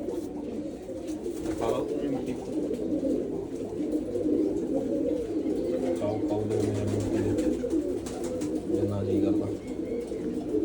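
Pigeons settled in soil inside a breeding loft coo in low, repeated throaty phrases while someone talks close by over them.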